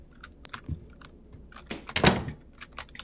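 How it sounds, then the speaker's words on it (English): A door swings shut inside the horror game Okaeri, landing as a single solid thunk near the two-second mark among scattered light clicks and taps. "I just closed the door on myself."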